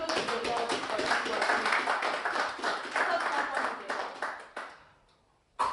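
A church congregation claps together in applause to acclaim the Lord, a dense sustained patter that tapers off near the end, with a few final isolated claps.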